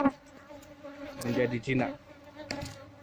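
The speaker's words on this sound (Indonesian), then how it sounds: "Lebahnya sangat agresif, kita membuat asap dari karpet telur." A wild, aggressive bee colony buzzes close by while smoke from burning egg carton is used on it, a dense droning hum with someone speaking briefly over it.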